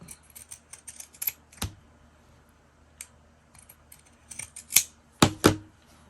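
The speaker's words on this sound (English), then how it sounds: "I'm trying to keep the point of the scissors on that red line" Scissors snip along a line through paper for a journal cover in a series of crisp, close cuts, with small clicks early on and a cluster of louder snips near the end.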